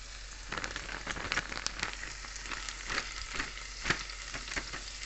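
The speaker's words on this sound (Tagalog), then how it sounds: "mag-fry tayo ng coriander" Chopped coriander frying in a pan for a spinach chicken soup, a soft, steady sizzle with crackling pops and the occasional scrape of stirring, close up and fairly quiet, with no voices.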